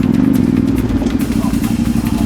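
A motorcycle on Pirelli tires idling nearby, a loud, rough, rapidly pulsing engine note that runs steadily for a couple of seconds before it is switched off.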